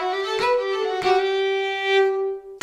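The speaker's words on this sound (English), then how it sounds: "Kind of a quick down bow and then a slow up bow." Fiddle bowing a sustained note in a reel pattern, quick down bows followed by slow up bows, two or three bow changes heard close and alone before a brief cutoff.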